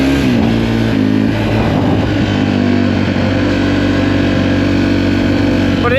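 A Sherco 450 SEF enduro motorcycle runs loud and close, its engine note holding steady and shifting pitch as the throttle changes, with a sharp rise at the very end.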